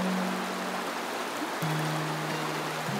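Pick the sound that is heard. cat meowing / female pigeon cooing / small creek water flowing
small creek water flowing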